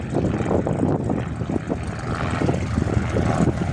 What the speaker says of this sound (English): And RV8 departs Jandakot.